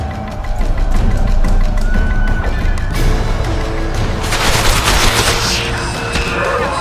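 A battle in The Witcher 2: Assassins of Kings, with loud volleys of shots and crashing impacts that keep up steadily and then swell into a heavier, denser barrage toward the end.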